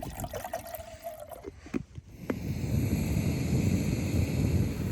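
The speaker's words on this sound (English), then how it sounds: "Just gonna get some water into jet boil" Water poured into a Jetboil camping stove pot outdoors while wild camping in the Peak District, with a few clinks and handling noises followed by a steady trickling pour under light wind.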